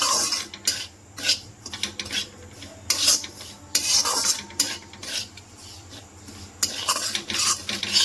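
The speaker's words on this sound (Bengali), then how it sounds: "সুজিটাকে ভাজার সময় কিন্তু তোমরা কন্টিনিউ নাড়বে, না হলে কিন্তু সুজিটা পুড়ে যাবে।" Dry semolina being roasted in a pan for Bengali suji halwa, stirred continuously with a spoon: a steady run of close, gritty scraping and rasping strokes against the pan, with no voices.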